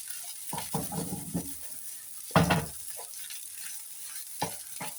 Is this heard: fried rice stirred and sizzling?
yes